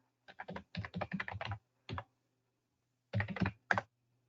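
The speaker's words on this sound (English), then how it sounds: "So here, I'll type it in." Quick bursts of typing on a computer keyboard, clicky keystrokes in clustered runs separated by short pauses, close and clear with nobody speaking.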